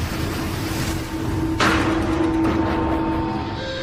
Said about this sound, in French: Des tempêtes déchaînées s'abattent sur les océans.